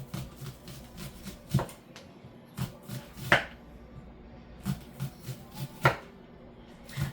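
A knife slices stewed salmon thinly on a cutting board after the skin has been removed. Irregular sharp taps of the blade striking the board repeat through the clip, a few louder than the rest, over a quiet, steady background.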